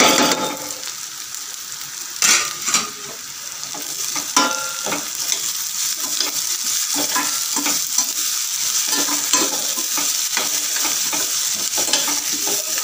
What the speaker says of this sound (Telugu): ఉల్లిపాయలు అనేవి బాగా వేగిపోయాయి కదా ఇప్పుడు వచ్చేసి ఇందులో పచ్చిమిర్చి వేసేసుకున్నాము